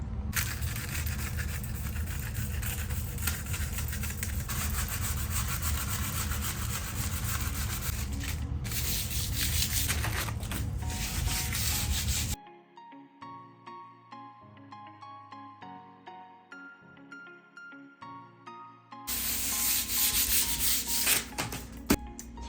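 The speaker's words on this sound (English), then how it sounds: "So I'm actually gonna just give this a really light sanding" Light sanding of plastic filler rubs back and forth in steady strokes, close up, pausing for a quiet stretch of soft tapping before the scraping resumes.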